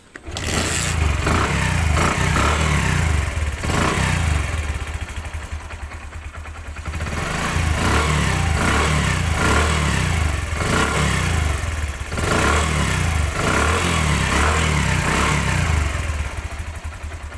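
A Bajaj Platina 100cc motorcycle in Bogra, Bangladesh runs loudly nearby, its steady engine putter dipping briefly midway before climbing back to a steady run, with no speech.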